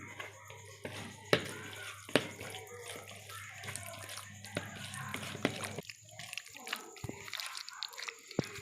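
Chicken pieces mixed by hand with cornflour and thick yogurt, giving wet, sticky squelching and soft slaps with a few sharper knocks, close and steady throughout, with no talking.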